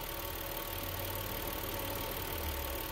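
A car engine idling with a throttle valve in need of cleaning gives a steady, continuous mid-range drone with a faint rattle, close up and unchanging, with no other sounds.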